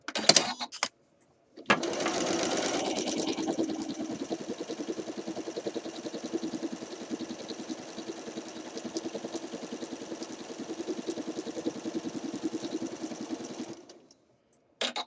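A sewing machine runs continuously for about twelve seconds, stitching across the raw edge of a fabric cuff on a shirt dress, its fast, even whir loud and close, with brief quiet before and after.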